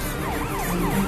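Ambulance siren wailing in rising and falling sweeps, loud and steady over a traffic background, with no voices.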